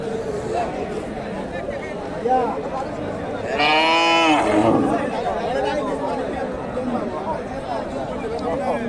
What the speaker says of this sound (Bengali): এখানে একটা গাভী, সুন্দর একটা গাভী দেখতেছি।